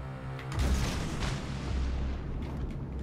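Heavy naval guns boom in a World of Warships: Legends sea battle, a deep, loud rumbling salvo that swells after a brief lull and rolls on with sustained low thunder.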